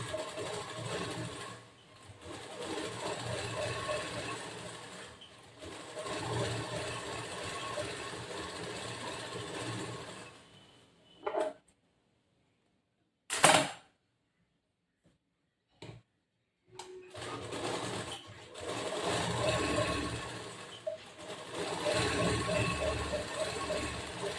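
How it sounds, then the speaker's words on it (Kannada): A sewing machine runs in steady rhythmic bursts stitching a boat neck blouse seam, pausing to near silence midway before resuming its fast regular ticking. "ಇದೇ ತರನೇ ಈ ಕಡೆ ಸೈಡ್ ಒಂದು ಹೊಲಿಗೆ ಹಾಕ್ಬೇಕು."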